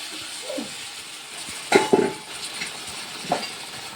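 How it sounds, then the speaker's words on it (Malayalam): Beef goes into a hot pan with spices for a Kottayam-style beef fry, giving a faint background sizzle broken by a few quick metallic clinks and stirring scrapes. "ഇനി നമുക്കിതിലേക്ക് നമ്മുടെ ബീഫ് ഒന്ന് ഇട്ട് കൊടുക്കാം"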